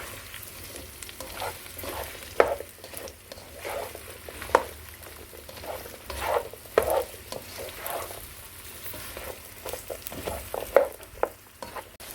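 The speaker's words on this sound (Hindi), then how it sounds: "और भिंडी को स्टर फ्राई करेंगे 4 से 5 मिनट के लिए।" Okra (ladyfinger) stir-fried in hot oil over a medium to high flame: a steady close sizzle broken by sharp scraping stirs every couple of seconds, with no talking.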